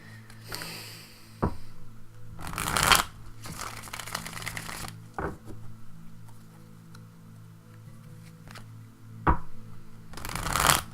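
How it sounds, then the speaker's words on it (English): Tarot cards are shuffled in several quick riffling bursts, close up, with quiet handling noises and soft taps between the shuffles. "Just a couple more shuffles."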